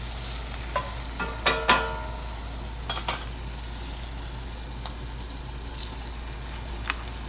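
Black pudding frying in a pan, a steady soft sizzle with a few sharper crackles and stirring clicks near the start, heard alone without talk.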